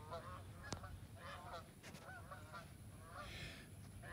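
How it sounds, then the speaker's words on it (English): Geese honk while circling overhead in open country, several short nasal calls spaced irregularly across a faint, distant-sounding background. "Old geese."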